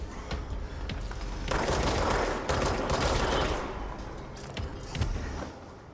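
Rapid gunfire from an upgraded weapon in a video game: dense bursts of fast shots, loud and close, with mechanical game noise between them.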